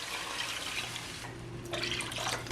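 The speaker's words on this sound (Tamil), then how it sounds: "நான் வந்து டோட்டலாக 2 கப் எல்லாட்டிக்கு 500 மில்லிலிட்டர் தண்ணி சேர்க்க போகிறேன்" Water poured steadily into a pot of eggplant and clam curry, a soft continuous splashing trickle heard fairly close with no talk.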